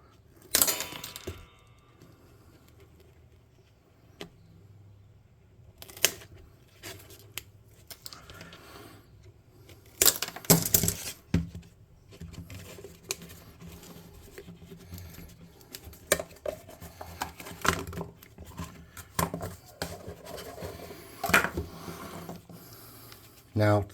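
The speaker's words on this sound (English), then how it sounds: "Now in theory, I should be able to come around and snip these off." Scissors snip off string ends while building a small hot-air balloon model, producing scattered close, crisp cuts and clicks among rustling and handling noises, with some speech between.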